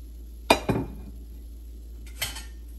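Ingredients tipped into a hot pan on the stove for dry roasting, making two quick metallic clanks close together, then a lighter clink a moment later over a steady low hum.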